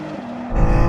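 A BMW, either a new M2 or an XM, rushes past during a drag race, a brief close engine roar that swells sharply in the final half second.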